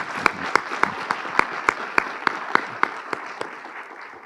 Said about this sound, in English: I think we should give the moderator a huge applause as well.